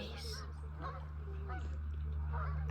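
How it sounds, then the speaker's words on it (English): Several geese honk repeatedly on a reservoir at a nature reserve, fairly close and clear, over a constant low background hum. "You can hear the geese."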